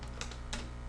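Computer keyboard keys tapped during spreadsheet entry, with two soft clicks, the second slightly firmer like an Enter press, over a steady low room hum.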